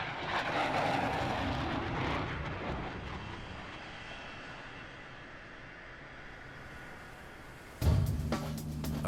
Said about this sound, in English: these FA-18 pilots can't rest until they bring their aircraft safely to a stop